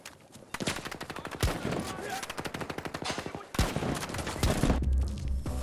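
Rapid shotgun blasts from a Spas-12 firing frag rounds in Battlefield 2042, loud repeated booms in quick bursts with sharp explosive cracks, a short pause near the middle, then more firing alongside game noise.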